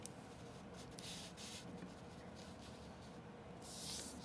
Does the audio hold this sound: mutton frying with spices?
no